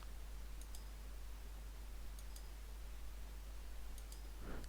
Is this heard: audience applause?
no